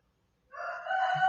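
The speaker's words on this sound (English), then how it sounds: "this rooster that keeps croaking" A rooster crows once, loud and nearby, the rising call beginning after a short silence and holding strong to the end.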